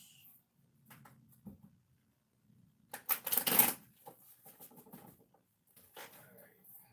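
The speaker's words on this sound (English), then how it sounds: "we're gonna pull 7 cards real quick" Playing cards riffle in a brief, loud shuffle burst midway, surrounded by softer handling and card-drawing sounds, close to the mic with some faint talking.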